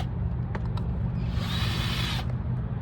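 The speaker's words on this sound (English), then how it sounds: "I'm gonna use a drill." Power drill boring drainage holes through a stack of plant pots, a steady close mechanical whir with a brief louder grinding burst midway over constant low hum.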